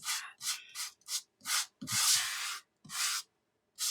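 Scrapbook photo edges are sanded by hand in quick rasping strokes, about eight short scrapes close to the microphone with one longer rub in the middle and brief pauses between.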